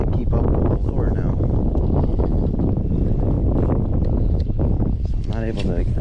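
Strong wind roars steadily against the microphone on a fishing boat out on the water, a constant buffeting rush that dominates the scene while someone talks over it.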